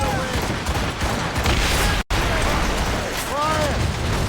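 Ship cannons fire during a naval battle in the Assassin's Creed Rogue video game, with dense, loud continuous booming and rumble that briefly cuts out midway, under game music and sea noise.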